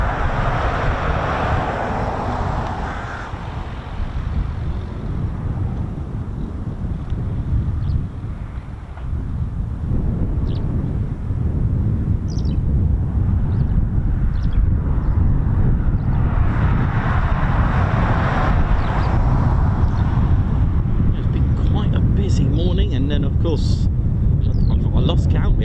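Heavy military jets, a KC-135 Stratotanker and C-17, departing from an RAF airfield, a loud sustained roar with wind buffeting the microphone, swelling and fading as each aircraft climbs away, while people talk over it.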